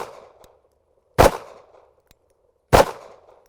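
Two sharp pistol gunshots at shooting practice, about one and a half seconds apart, each a loud close crack with a short ringing tail, and quiet between them.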